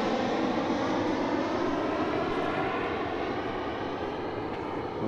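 A fixed-wing airplane flies low overhead on its approach to land near St Nicholas Chapel, its engine a steady, loud, broadband drone that holds for five seconds.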